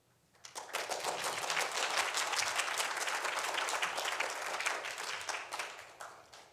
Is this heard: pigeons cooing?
no